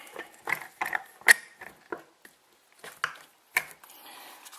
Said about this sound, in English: So we'll get the vise back down here.